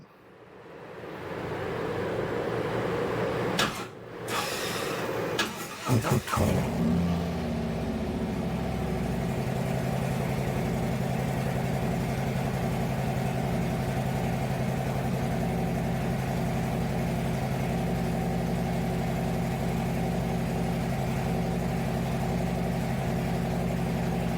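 A motorcycle engine cranks over briefly, catches, and settles into a steady, loud idle close by, running on continuously with no talk over it.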